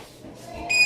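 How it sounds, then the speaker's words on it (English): Kitchen oven timer buzzer sounding briefly near the end, a short bright electronic tone over a quiet room. "the buzzer's about to go off."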